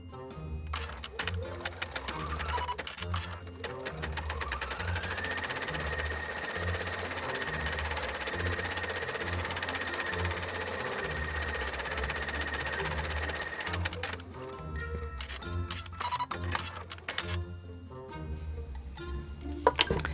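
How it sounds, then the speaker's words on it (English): An embroidery machine stitches a seam on a cloth doll's fur wig, its needle running in a steady rapid mechanical chatter that holds for most of the clip, close and fairly loud, with brief pauses and shifts near the start and end. "I'm going to take this over to the machine and stitch the seam."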